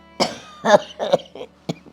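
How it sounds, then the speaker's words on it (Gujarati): A series of five dry coughs in quick, uneven bursts, close and fairly loud. "જો જો પાછી ઉધરસ ચડીને"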